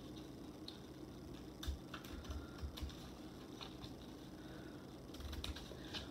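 Scissors cut through paper along a spiral line, turning corners as they go: close, quiet crunching snips in short irregular bursts over a steady low background.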